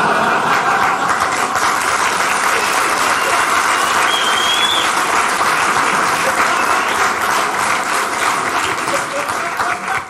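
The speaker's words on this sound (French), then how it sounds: "Qu'est-ce que c'est que ce bruit que j'entends? Les applaudissements de qui? Le public." An audience in a comedy show venue claps continuously, a dense, steady wash of applause lasting the whole stretch and fading slightly at the end.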